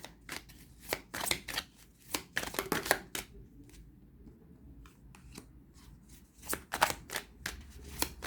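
Tarot cards being shuffled in quick bursts of crisp riffling and flicking, loud bursts near the start and again toward the end, with a quieter stretch in between and no talking.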